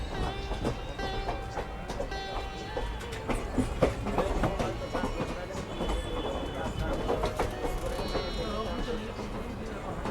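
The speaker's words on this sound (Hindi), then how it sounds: "इस समय हम ईदगाह रेलवे स्टेशन से यह ट्रेन रवाना होने को है" A train waits to depart from Idgah railway station in Agra at night, its low mechanical rumble and scattered metallic clanks running steadily under busy platform chatter and ambient noise.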